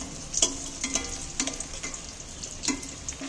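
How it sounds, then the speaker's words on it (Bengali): Koi fish fry gently in oil over a low gas flame with a soft, steady sizzle. Sharp clinks of a utensil against the pan recur every half second or so. "এইগুলোকে আমি গ্যাসের ফ্লেম কমিয়ে দিয়ে আস্তে আস্তে এগুলোকে ভেজে নিই"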